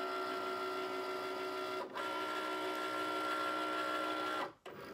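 A Cricut cutting machine scans a printed sheet for its registration markers, producing a steady mechanical whirring drone with sustained tones, briefly dipping midway and cutting off near the end.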